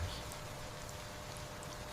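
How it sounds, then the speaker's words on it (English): Steady rain falls evenly with a soft, continuous hiss and no distinct drops standing out; a calm, unbroken wash of sound. "The same kind of rain you hear now, rain that has fallen like this for thousands of years"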